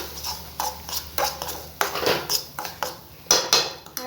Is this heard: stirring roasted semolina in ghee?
yes